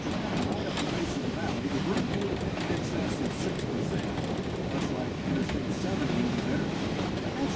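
A Georgetown Loop narrow gauge railroad train rolls along in a steady, dense rumble with clatter and rattling throughout, heard from on board with no pauses.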